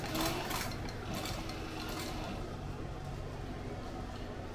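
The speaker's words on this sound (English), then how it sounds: "sometimes I'll sew in spurts where I'll do a few stitches" A sewing machine stitching a sling bag runs steadily in a short continuous burst, a dense mechanical whirr with clattering needle action, fairly loud and close, with no voice over it.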